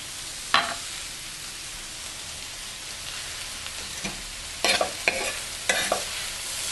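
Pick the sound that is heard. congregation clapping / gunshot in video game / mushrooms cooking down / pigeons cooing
mushrooms cooking down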